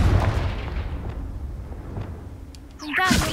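A Confringo spell explodes in the Hogwarts Legacy video game, a deep booming blast at the start that rumbles and fades over a few seconds, with game effects rising near the end.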